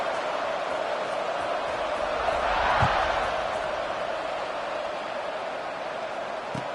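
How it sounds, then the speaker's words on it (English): Stadium crowd buzzing at a Penn State football game, a steady broad roar that swells slightly midway, with a couple of faint thumps underneath. "this crowd is buzzing after that last score"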